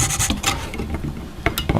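Small, close scraping and rasping strokes as a knife trims wooden parts of a ship model hull, with short irregular cuts and a few sharper clicks, no talking.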